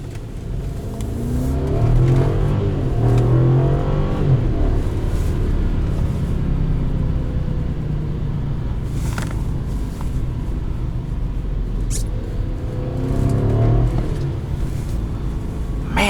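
A 2011 BMW 550xi accelerating on a test drive, its engine rumbling and rising steadily in pitch over sustained revs, heard from inside the car with a steady road roar and no talking.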